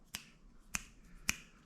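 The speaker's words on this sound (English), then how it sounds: "I can snap my fingers" Three crisp finger snaps, evenly spaced about half a second apart, close and clear against a quiet room with no talking.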